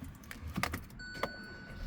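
A 2017 Hyundai Elantra Sport with a 6-speed manual is started with its key fob inside the cabin: a few soft clicks and thumps, then a steady electronic chime tone held over a low rumble.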